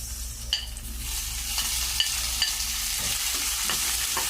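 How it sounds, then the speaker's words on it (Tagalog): Tomatoes for chicken afritada cook in a pan with a steady sizzle, while a few light utensil taps and scrapes come through near the start and middle. "Yung kamatis, lutuin lang natin sa maigi."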